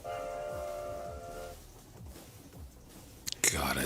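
At a station in a video game, a train sounds a steady horn-like tone over a low rumble with rhythmic clunks, then fades to rumbling before a brief loud burst of noise at the end.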